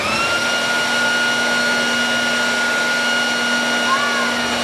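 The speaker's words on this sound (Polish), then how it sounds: "włączy nam dmuchawę" An electric air blower at a science centre demonstration runs with a continuous steady whine and whoosh, loud and close, holding an unchanging pitch throughout.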